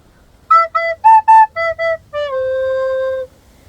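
A recorder plays the opening phrase of a song: six short clear notes in a bouncing rhythm, then one long sustained lower note, close and solo with no talk.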